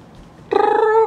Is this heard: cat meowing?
yes